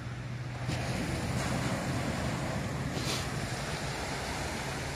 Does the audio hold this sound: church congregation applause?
no